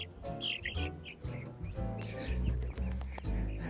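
Chickens in a backyard coop cluck and chatter steadily, with several overlapping calls close by and a continuous busy texture, no talking.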